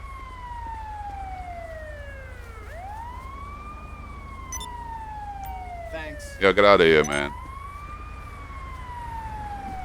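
A police siren from GTA V with the LSPDFR mod wails in long, falling and rising sweeps, loud and steady throughout, while someone talks over it and a brief louder burst of his voice cuts in near the end.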